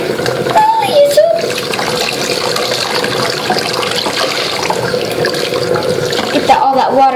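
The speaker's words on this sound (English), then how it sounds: "Get all that water out of them before we soak them into some fresh and clean water." Running water pours steadily in a bathtub as it is drained and refilled for washing, a continuous splashing rush filling the whole stretch, with a voice and other talk heard briefly over it.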